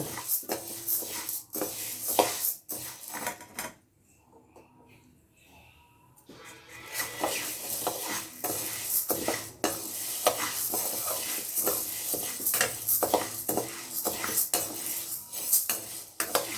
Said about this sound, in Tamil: நம்ம கொஞ்சம் கிளறிட்டே இருக்கணுங்க